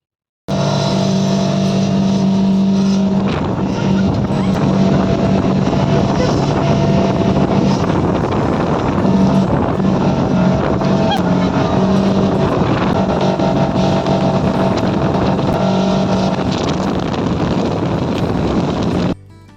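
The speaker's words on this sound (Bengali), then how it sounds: "এখানে নৌকা ও বিভিন্ন রকম স্পিড বোটের ব্যবস্থা আছে" A speedboat ride on Patratu Lake, with a loud, continuous engine drone and heavy wind rush across the microphone for nearly the whole ride, steady and close.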